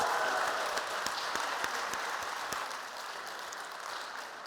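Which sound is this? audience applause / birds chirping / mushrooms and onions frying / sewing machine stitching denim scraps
audience applause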